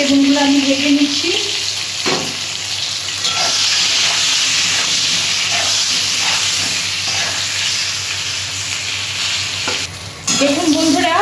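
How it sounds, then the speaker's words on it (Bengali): Eggplant pieces frying in oil with turmeric crackle and hiss in a loud, continuous sizzle nearby, with occasional stirring scrapes and no voices. "আর একটু হলুদ দিয়ে বেগুনগুলো আমি ভেজে নিচ্ছি।"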